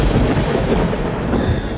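Heavy, loud thunder from a lightning strike on a building roof rumbles continuously, a deep sustained roar filling the whole short moment without any voices.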